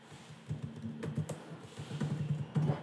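Keys clack in a quick, irregular run as a password is typed on a computer keyboard, with close, moderately loud taps and no voices.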